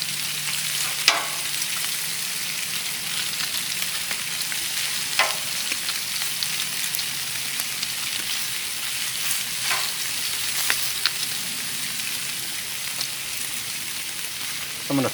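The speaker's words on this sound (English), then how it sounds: "I knew the bacon was going to be really oily, so I purposely put it on the side that has the drain hole" Bacon sizzles and crackles steadily on a CharBroil Performance Series flat-top griddle (model 463711223), with the fat running toward a drain hole. A continuous close frying hiss is broken by a few sharp pops and spatters.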